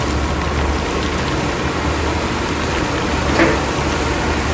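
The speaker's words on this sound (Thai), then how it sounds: "จะได้ยินเสียงฝนนะ" Steady, dense rainfall hissing continuously, loud and close, with no voices over it.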